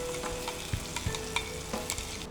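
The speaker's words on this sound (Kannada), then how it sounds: "ಮಸಾಲನ್ನು ನಾವು ತುಪ್ಪದಲ್ಲಿ ಎಣ್ಣೆಯಲ್ಲಿ ಸ್ವಲ್ಪ ಫ್ರೈ ಮಾಡುವ." Masala frying in ghee and oil for a chicken green ghee roast, a steady close sizzle broken by a few soft knocks of stirring, with no talk.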